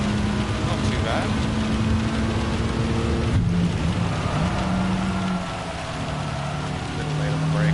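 Rain on the track in Gran Turismo 7 during a wet High Speed Ring race, a steady broadband patter and hiss blended with the droning, shifting engine note of a Gr.4 Mitsubishi race car, with a voice talking over it.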